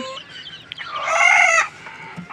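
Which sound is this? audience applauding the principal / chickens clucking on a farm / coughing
chickens clucking on a farm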